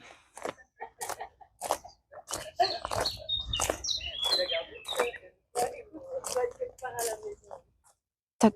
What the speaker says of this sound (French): On entend encore les petits oiseaux.